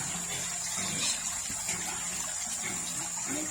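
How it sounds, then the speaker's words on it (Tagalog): Water trickles and splashes steadily as it is slowly poured into a backyard crayfish tank, a continuous close wash of sound with no talking. "Lalagyan natin unti-unting tubig guys."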